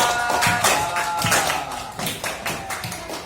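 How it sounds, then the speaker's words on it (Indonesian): A classroom of students claps for an answer, a brisk run of hand claps with some distinct, rhythmic taps standing out near the microphone. "Kasih tepuk tangan yang meriah untuk jawaban"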